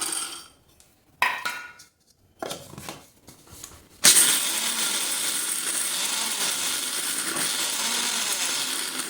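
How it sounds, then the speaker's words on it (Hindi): An electric grinder grinds roasted chickpeas: after a few short bursts and pauses, the motor runs steadily and loud, with a dense rattling whir that continues to the end. No one speaks. "अब बाकी चने को भी पीस लेते हैं।"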